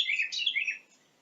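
Backyard birds give a quick run of bright, close chirps and tweets that stop abruptly, leaving near silence.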